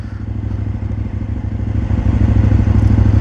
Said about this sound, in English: That sounds flipping awesome with that exhaust on it